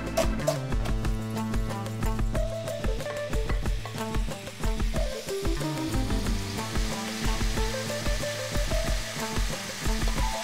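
Finely cut meat sizzles loudly in a hot oiled frying pan, a dense crackling hiss with rhythmic clanks and stirring over background music, continuous for the whole stretch.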